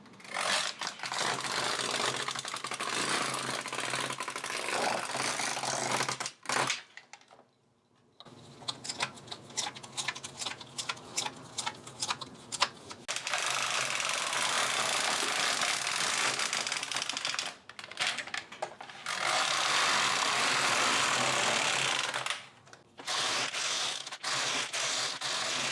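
Rows being knitted on a knitting machine, heard as a dense mechanical clatter as the carriage sweeps back and forth, with short pauses between passes.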